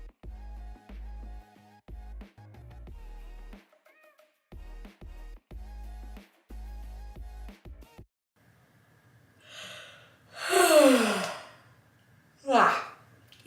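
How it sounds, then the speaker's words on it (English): A person gives one long, breathy yawn that swells and fades, followed by a shorter exhaling yawn-like breath, after a stretch of quiet, muted background tones. "I felt that yawn coming like the whole episode."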